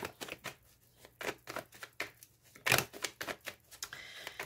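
Tarot cards riffle and slap in quick irregular bursts during shuffling for a reading, close and fairly quiet, with no voices.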